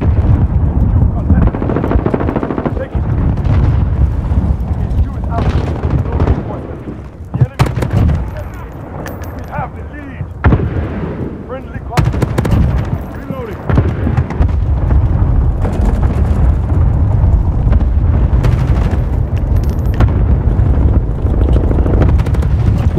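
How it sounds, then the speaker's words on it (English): An airstrike in Call of Duty: Modern Warfare: a dense, loud stretch of rumbling blasts and crackling gunfire, with sharp explosive bursts over a constant roar of battle. "Okay, cool, I got my airstrike."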